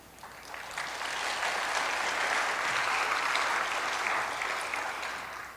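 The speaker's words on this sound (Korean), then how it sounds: "박수로 주님께 영광 박수를 올려드리겠습니다" A church congregation applauds together during Sunday worship, a dense, sustained wash of clapping that swells, holds steady for several seconds and fades.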